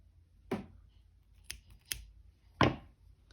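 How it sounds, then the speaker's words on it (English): Four crisp snips of scissors cutting yarn, spaced irregularly over a few seconds, close up in a quiet room with no talking. "cut the yarn you're not using."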